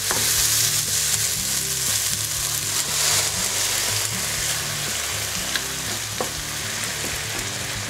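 Port wine poured into a pan of mushrooms frying with saffron for a vegan pâté, giving a loud, steady sizzle that continues without pause, with a few faint clinks of stirring.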